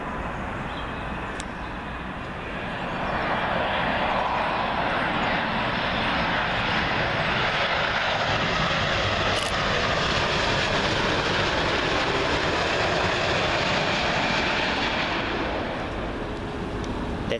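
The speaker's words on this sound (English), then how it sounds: "Comes another big heavy, United 787-9 Dreamliner in from Austin" A United Boeing 787-9 Dreamliner on approach to land at Heathrow, its broad jet roar swelling in from quiet and holding loud and steady overhead before easing slightly at the end.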